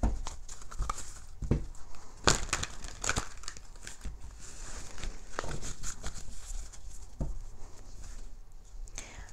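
A deck of tarot cards is shuffled, giving irregular soft crinkling riffles and sharp papery snaps in short bursts, close and fairly quiet, with pauses between the shuffles.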